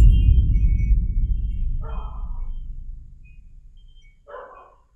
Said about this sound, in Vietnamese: Tự nhiên mình nghe chó sủa mọi người.